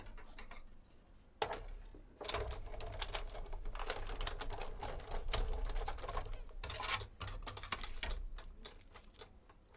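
A manual die cutting machine cranks blue cardstock through its rollers, giving a close, continuous rapid clicking and grinding rattle with a low rumble, steady for several seconds after a brief quieter start.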